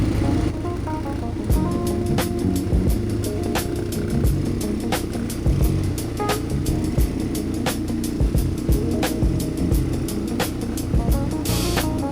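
An ATV rolls through water on the Albay black lava trail, its engine droning steadily and loudly up close throughout, with sharp splashes and knocks breaking in at irregular moments.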